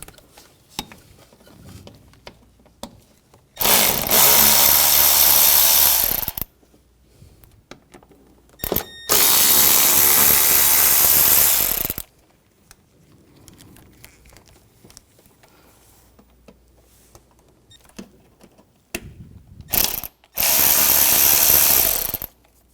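Socket tool driving out screws and bolts on a 2004-2009 Audi A4 during radiator and condenser fan removal: three loud bursts of mechanical whirring, each a few seconds long, separated by quiet gaps with small clicks.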